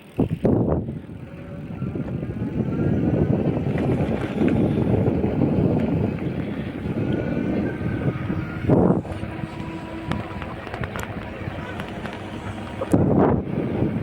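Steady broadband engine and road rumble while riding in a work team's vehicle on a workday in Israel, with wind buffeting the microphone and a few brief louder bumps, continuous throughout with no talk.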